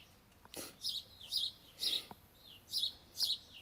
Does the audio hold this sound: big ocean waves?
no